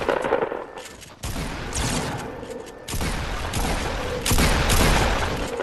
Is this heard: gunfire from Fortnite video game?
yes